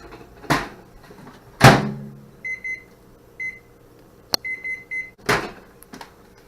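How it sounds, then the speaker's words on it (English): A microwave oven heating a balloon animal, with a couple of loud door thumps and clicks, then several short electronic beeps in small groups, close and clear with no talking. "so I'm just gonna microwave it real quick."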